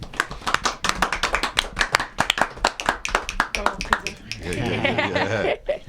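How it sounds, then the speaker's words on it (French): A small group applauds a guest on a music-channel talk program, with sharp, distinct individual claps in a loose rhythm, close and clear, followed by speech at the end. "On peut l'applaudir."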